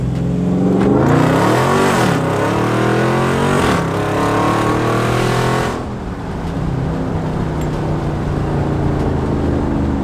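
A 2019 Dodge Charger Scat Pack V8 revs hard, its exhaust rising and falling in loud, close surges for about six seconds before settling to a lower, steadier drone.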